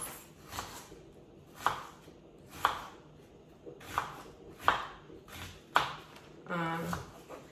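Onions being chopped lengthwise with a knife on a board for a seafood boil sauce, about six distinct thuds at a steady, unhurried pace, close and clear, with a brief voice at the end.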